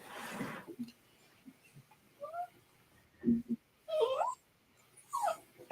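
A dog whimpers and yips in a string of short, high, whiny cries, faint at first and then louder bursts, in a quiet indoor setting with a low voice briefly heard.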